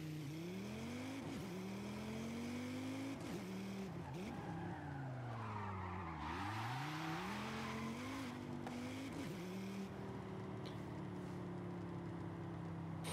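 Launch of a car in the Forza Horizon 5 racing game: a revving engine climbs and falls through gear shifts while loud tire squeal and skidding rise in the middle, sustained throughout with no talk.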